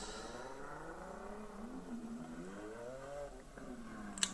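A car engine revs and strains during an attempted burnout, rising and falling in pitch as the throttle is worked, fairly distant and steady over background noise, with a brief sharp click at the end.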